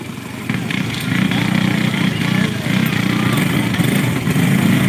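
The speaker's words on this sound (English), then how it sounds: "All right, they're firing up the engines." Several go-kart engines start up and run at a 91 short track race in Hanceville, Alabama, giving a steady, loud buzzing drone that holds for about five seconds, with voices faintly mixed in.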